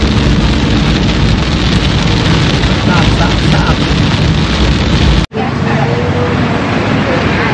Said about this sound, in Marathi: खूपच जोरात पाऊस आला आता.